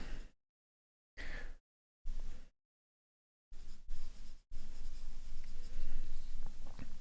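Colored pencil shading the tire of a 1973 Jaguar E-Type drawing on paper, heard as close, soft scratchy strokes in short bursts with pauses, then a longer stretch of steady scratching.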